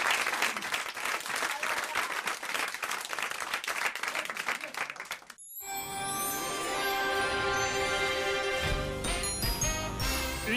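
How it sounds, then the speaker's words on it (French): A studio audience on a French talk show claps loudly and steadily for about five seconds. The applause then cuts abruptly to a bright musical jingle. "on vous applaudit et on vous embrasse"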